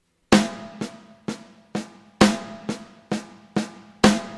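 A snare drum plays a paradiddle pattern, a louder accented stroke opening each group of softer taps, steady and close with snare buzz.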